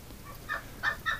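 An injured duck gives a few short, nasal calls close by, three honking quacks in quick succession against a quiet background.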